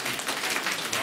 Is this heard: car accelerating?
no